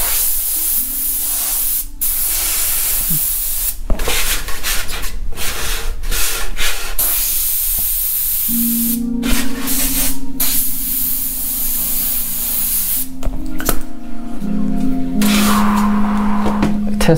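Airbrush hissing steadily as it sprays Testor's enamel paint onto a screen-print test square, the continuous spray broken by short pauses and shifts in pressure, with faint rubbing and tool handling underneath.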